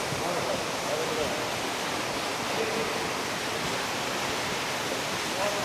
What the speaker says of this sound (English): I feel like I can hear a waterfall up in front of us.